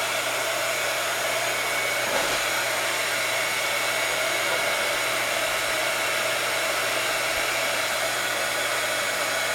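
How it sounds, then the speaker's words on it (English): A heat gun blows steadily while drying painted coffee flowers, a constant, even roar of rushing air at close range that holds unchanged throughout with no talking. "I'll just get right to the heat gun just to make it faster."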